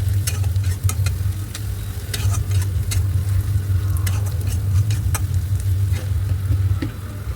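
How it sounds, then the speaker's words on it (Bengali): Onion and green chilli sizzle loudly in oil left from frying chicken, with a steady hiss and a low rumble, while scattered spatula scrapes and taps mark the stirring. "তেলটাই নিয়ে ওর মধ্যে পেঁয়াজ আর কাঁচা লঙ্কা দিয়ে দিলাম, দিয়ে ভালো করে একটু নাড়াচাড়া করে নেব"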